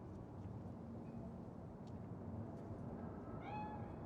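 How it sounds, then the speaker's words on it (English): A cat meows once near the end over a steady, dense ambient wash of city noise in Cyberpunk 2077; the meow is brief and moderately clear against the constant background. "Chill, just a cat."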